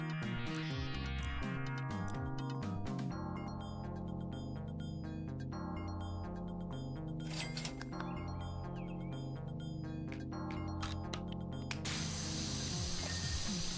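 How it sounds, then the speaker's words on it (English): A pressure washer nozzle sprays in the video game PowerWash Simulator, a steady hiss over layered tonal game sounds, turning into a broad, louder rushing spray near the end. "Guess I need a longer range nozzle."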